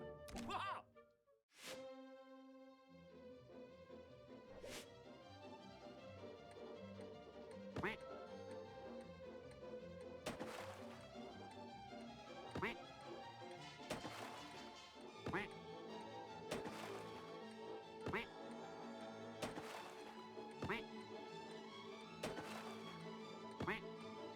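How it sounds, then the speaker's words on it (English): Cartoonish ducks quack repeatedly in a video game puzzle about arranging them into formation, the calls coming close and steady over a ticking, plinking game music loop and scattered thunks. "The Colonel is trying to arrange his ducks into formation."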